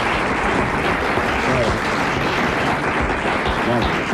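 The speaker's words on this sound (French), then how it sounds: "On applaudit Madame Vaudois." A radio studio audience applauds continuously, with dense, steady clapping throughout and no pause.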